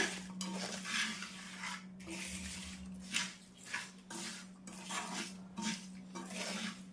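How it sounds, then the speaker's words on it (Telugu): Dried prawn pickle mixed with lemon juice is stirred in a pot, a spoon scraping and clinking in repeated uneven strokes over a low steady hum, close and fairly quiet, with no talking. "ఇప్పుడు దీంట్లోకి నిమ్మరసం వేసుకుందాం అంతా కూడా మళ్ళీ ఒకసారి కలుపుతాం బాగా"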